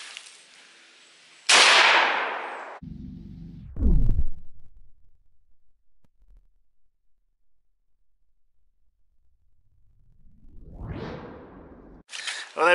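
Shotgun loaded with double-aught buckshot fired at a truck door outdoors from 50 feet, a loud sharp blast followed by a metallic clang and whooshing decay, with further sharp bursts and a rising swell later.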